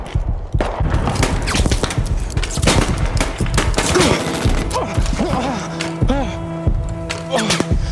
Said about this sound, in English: They're shooting over this hill.